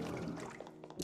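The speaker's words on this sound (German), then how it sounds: "Versucht mal runter zu spülen." A toilet flushes in the video game Luigi's Mansion 3, a brief rushing, gurgling burst of water lasting about a second, fairly loud and full.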